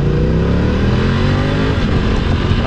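A BMW F900 XR motorcycle pulls hard under acceleration, its engine note rising steadily and loud throughout with a continuous close roar and no talk over it.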